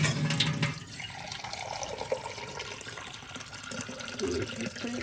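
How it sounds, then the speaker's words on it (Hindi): Steady rushing water runs from a tap, a continuous broadband splash that fills the whole clip with no talking over it. "अब मैं इसके अंदर ये डालती हूँ वाटर।"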